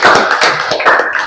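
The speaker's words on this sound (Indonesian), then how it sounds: "Oke, tepuk tangan dulu untuk kelompok 1." A classroom group claps for the first student team after its presentation, a short burst of close, uneven hand claps with no talk.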